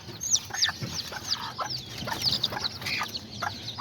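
A serama hen clucks softly among her four newly hatched chicks, whose high, rapid peeping chirps overlap her low calls throughout, close by and fairly loud.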